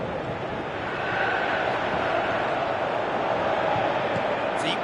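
Stadium crowd noise from a PES 2018 football match, Manchester United, a steady broad roar of spectators swelling slightly after the first second and holding loud throughout, with faint commentary-like voices underneath.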